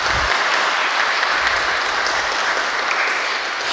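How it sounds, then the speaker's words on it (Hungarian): An audience at a literary award ceremony gives loud, sustained applause, dense clapping filling the hall throughout. "tehát jár azt a taps ismételten Alidának."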